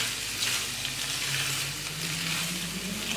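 Vegetables and egg macaroni stirred in a frying pan, a steady close sizzle with soft scraping from the stirring, continuous throughout with no talking.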